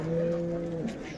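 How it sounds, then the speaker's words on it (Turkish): A Montbéliarde cow gives a short, low moo lasting under a second, fairly close, with faint market background noise around it. "burada bir tane mondofon ineğimiz var."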